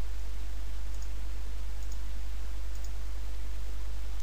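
Computer mouse clicks on a Windows 7 PC sound as a few faint, sharp ticks, roughly evenly spaced, over a constant low electrical hum.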